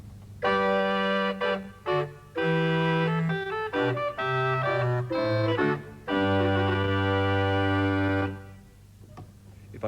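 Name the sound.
pipe organ played with a reed stop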